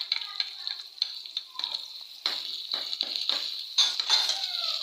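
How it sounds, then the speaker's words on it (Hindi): Garlic and ginger paste fries in a pan while a spoon stirs it, giving a steady close sizzle with scraping and faint clinks against the pan, cooked for a gourd and chana dal dish. "अब हम इसमें लहसुन अदरक का पेस्ट डाल देंगे।"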